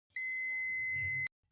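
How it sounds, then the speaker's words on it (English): A sustained electronic beep from a multimeter continuity test on a contactor's auxiliary contact block, one steady tone lasting about a second, clear and close with nothing else around it. "After pressing this, you can hear the beep sound."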